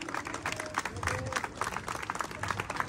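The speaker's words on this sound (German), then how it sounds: "Ein Applaus für die Albert Schweitzer Stiftung." Crowd clapping at an outdoor demonstration in Hannover for Earth Overshoot Day, moderately loud, uneven bursts of hand claps with some voices mixed in underneath.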